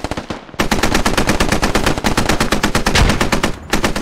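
Sustained, rapid machine gun fire from a technical vehicle in the video game Squad, loud and close, with evenly spaced shots rattling almost without pause for several seconds.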